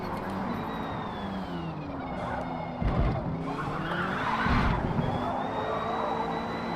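Car braking hard and skidding in the racing game Forza Motorsport, a sustained tyre squeal over steady engine drone, with two louder scrubbing bursts partway through.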